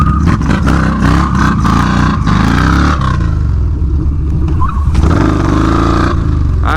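Motorcycle engine revs and rumbles hard under a rider doing wheelies and drifts, with loud bursts of throttle, clattering and wind buffeting in the first half, then a rougher, quieter stretch with scattered revs.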